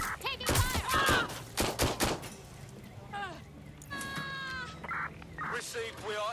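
Bursts of gunfire during a firefight in the video game Watch Dogs: Legion, sharp loud cracks clustered in the first two seconds under a mix of game voices and tonal sounds.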